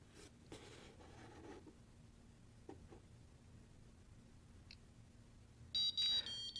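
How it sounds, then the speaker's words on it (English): A short, high-pitched electronic alarm from an Arduino microcontroller beeps in a quick pulsing burst near the end, after quiet scraping and rustling sounds. "you hear the awful alarm sounding away."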